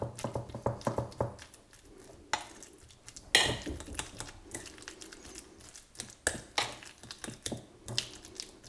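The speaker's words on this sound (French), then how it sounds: "maintenant on écrase le tout, on mélange le" Avocado being mashed and stirred with Roquefort and petit suisse in a bowl, a run of close, irregular scraping and clinking taps from a utensil against the dish, with brief pauses between bursts.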